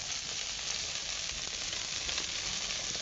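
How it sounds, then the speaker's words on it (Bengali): Spices tempering in hot oil in a kadai beside fried prawns, a continuous bright sizzle and crackle at steady close loudness throughout, with no voices. "কড়াই মাঝখানে একটু ফাঁকা করে নিয়েছি। এবার দিয়ে দিচ্ছি ফোড়ন"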